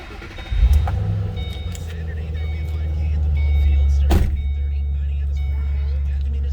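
A 2007 Ford Mustang Shelby GT engine fires up about half a second in and settles into a deep, steady rumble that swells slightly and holds, with a brief sharp knock partway through.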